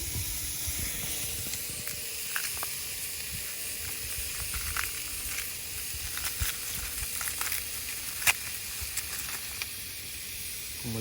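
Garlic and onions frying in a cast iron pot during winter backyard camping, a continuous close hiss and sizzle with scattered pops and crackles, no voices.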